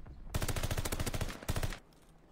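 Automatic gunfire in a ranked online shooter match: a rapid burst of shots, a short pause, then a second quick burst, loud and close.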